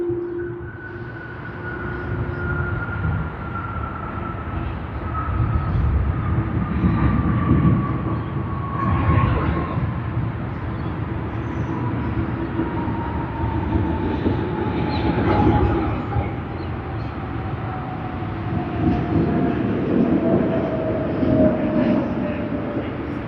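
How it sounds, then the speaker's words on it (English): A departing airliner at Sydney Airport, a steady distant roar with a slowly falling whine that swells and rumbles as it climbs away, with voices talking over it. "We just had one depart here out of Sydney"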